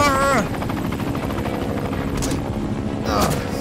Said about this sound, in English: I fly a helicopter!